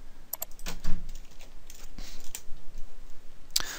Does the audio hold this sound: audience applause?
no